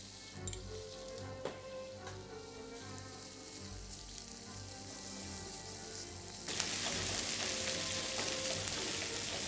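Tomato paste sizzles in a hot pan as the base for a crab bisque sauce, a steady close frying hiss that swells sharply louder partway through, with no talking.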